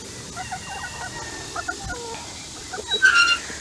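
Farm chickens cluck in short repeated bursts near the listener, with a sharper squawk toward the end and a faint voice murmuring in the background.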